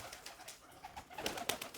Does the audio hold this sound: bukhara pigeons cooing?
yes